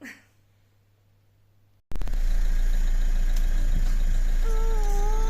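A family car's engine runs steadily as it drives along, a loud, constant low rumble that starts abruptly after a quiet moment and continues without letup.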